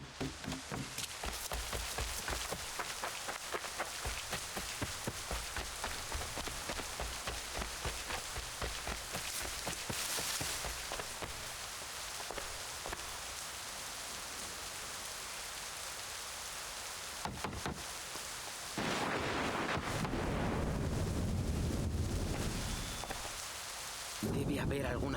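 Steady rain in Assassin's Creed III hisses throughout with bursts of heavier downpour and rumbling, with no speech over it.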